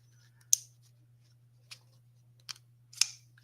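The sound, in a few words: folding pocket knife with button lock being opened or closed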